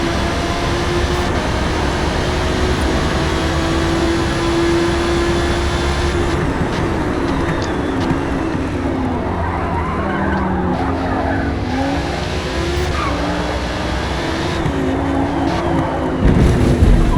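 A race car in the IARA Super Trofeo series exits a corner at the Nürburgring GP circuit with a loud, sustained engine roar and tire skid, the pitch shifting as it accelerates, heard close and continuous.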